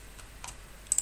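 A few quick, faint clicks of keys on a computer keyboard tap out a short burst of typing in a quiet room, ending with a slightly louder pair of strokes.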